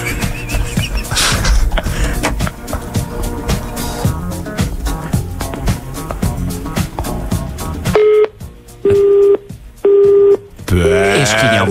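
A telephone call is placed on air during a morning radio show: a burst of keypad dialing tones over background music, then several evenly spaced ringback beeps before a voice-like sound at the end.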